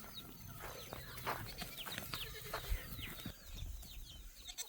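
Barnyard chickens cluck softly in scattered calls among other farm animals, with a few sharp thumps and rustles mixed in, fairly faint and steady without speech.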